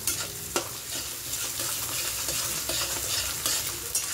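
Chowmein with egg stir-fried in a pan: a loud, steady sizzle with repeated scraping and tossing strokes, close up, with no voices.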